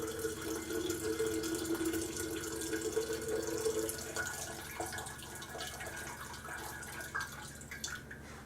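Running tap water rinsing silver crystals in a sink, a steady close splashing flow with some dripping and shifting as the crystals are swirled, no talking.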